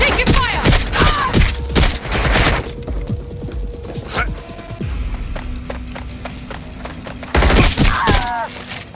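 Rapid gunfire in the game Watch Dogs Legion rattles in loud dense volleys at the start and again near the end, with quieter thuds and clicks between and a voice shouting over the action.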